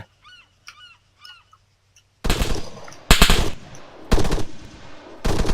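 Arma 3 gunfire: after a few quiet honk-like calls, loud close bursts of automatic fire break in, with several separate volleys and short gaps between them.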